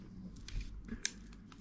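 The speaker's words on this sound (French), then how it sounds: "je prends mon papier, je viens couper" Scissors snipping paper while making a storage box, a few short soft cuts close by with light handling rustle between them, quiet overall and no talking.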